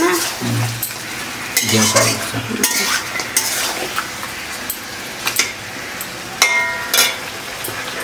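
Country chicken kosha frying in a pan while a spoon stirs and scrapes it, with sharp clinks and scrapes over a low sizzle and one brief spoken word.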